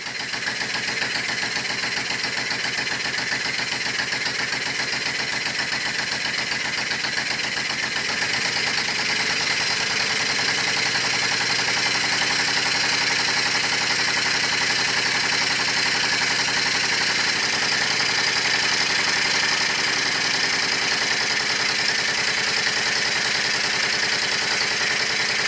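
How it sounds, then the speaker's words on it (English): A Stuart Models No. 9 model steam engine, still being run in, turns at a faster speed, giving a steady, continuous mechanical churn that holds even and fairly loud throughout with no speech. "I'm running the engine at various speeds. And now the time has come to speed up things a bit."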